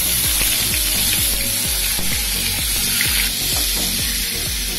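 Butter and oil sizzle in a pan with a loud, steady frying hiss throughout and faint crackles underneath.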